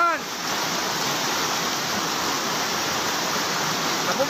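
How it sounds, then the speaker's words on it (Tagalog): Floodwater rushing through flooded houses as a roaring, steady torrent. The broad wash of water stays loud and close for the whole stretch, with faint voices barely showing at the edges. "lalong lumakas ang baha!"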